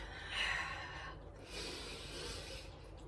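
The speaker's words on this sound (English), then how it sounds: "Can you hear me breathing?" Heavy breathing from a person mid-way through an equipment-free high-intensity interval workout: two close, loud, rasping breaths, the first sharper and the second longer, with no speech.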